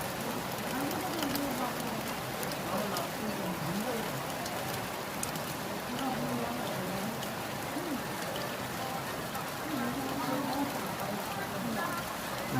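Steady rain pours down continuously, a dense even patter on surfaces that fills the whole stretch, with a voice speaking faintly beneath it now and then.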